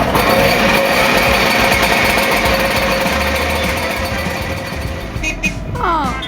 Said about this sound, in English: Now let's start the engine.